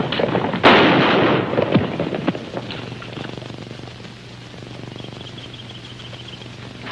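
Gunfire in a 1951 western film scene: a sharp, loud volley of shots bursting out near the start, followed by a few scattered cracks and a lingering rumbling tail.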